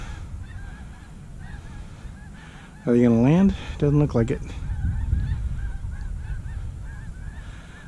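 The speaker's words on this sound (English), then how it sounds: "those are swans. White bodies, black wings. Wow. They sound like geese." A few loud, honking calls from swans flying overhead in a short burst, with people talking quietly before and after.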